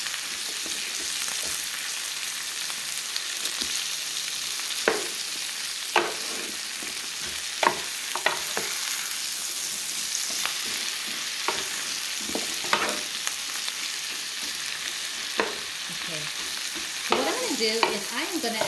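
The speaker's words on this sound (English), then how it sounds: "But since I'm already cooking it, I just put in the whole head of cabbage" Whole head of cabbage cooking with canned corned beef in a pot, a steady sizzle and frying hiss with repeated stirring scrapes and clinks throughout, no talking.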